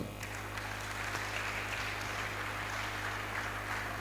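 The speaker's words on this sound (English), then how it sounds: "can you applaud yourself?" Audience applause in a hall at a university engineering faculty's international hybrid event, broadband and steady for the whole stretch with low hum beneath, moderately loud and continuous without a clear break.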